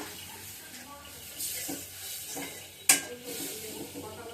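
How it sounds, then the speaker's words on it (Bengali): Milk poured into a hot pan on a stove gives a soft, close splashing and gurgling flow, with one sharp clank from the pan partway through. "তারপরে চুলার হিটটা বাড়িয়ে দিয়ে আমি এবার দুধটা ছেড়ে দিই"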